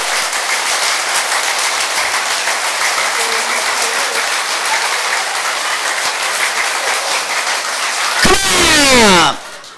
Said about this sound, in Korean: 좀 더 크게 박수, 준비!